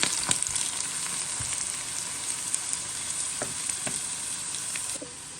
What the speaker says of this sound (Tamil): இப்போ நல்ல ப்ரௌனாக வந்துட்டு வெங்காயம்